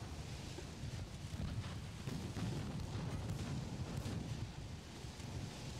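Battleships in a Royal Navy fleet battle in Ultimate Admiral: Dreadnoughts fire naval guns, producing a faint, rumbling series of distant booms and rolling thunder-like blasts layered over a windy background.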